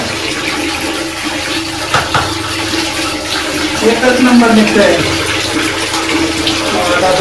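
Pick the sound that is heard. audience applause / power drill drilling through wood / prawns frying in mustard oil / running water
running water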